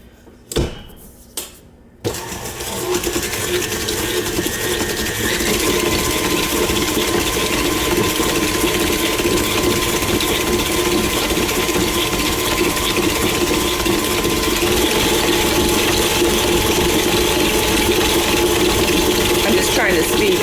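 A mixer runs at high speed through blueberry muffin batter, a loud, steady motor whir that starts after a few brief knocks and holds evenly to the end.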